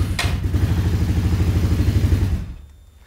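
An ATV engine without a choke, primed and started in sub-zero cold, chugs with a fast, even pulsing rhythm close by for a couple of seconds before it drops away and fades near the end.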